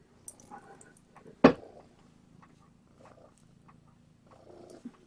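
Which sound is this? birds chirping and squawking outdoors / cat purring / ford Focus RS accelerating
cat purring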